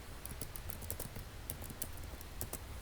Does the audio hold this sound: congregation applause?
no